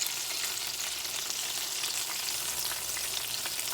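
Okra frying in hot oil until crispy, a steady dense sizzle and crackle held at an even level close by, with no speech.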